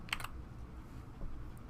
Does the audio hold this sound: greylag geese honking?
no